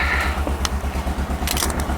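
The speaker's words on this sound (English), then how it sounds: "It's a 2-cylinder engine." A 2-cylinder engine of about 45 horsepower runs after a cold start, thumping in a steady low pulse with a few sharp mechanical clicks over the top, close and fairly loud.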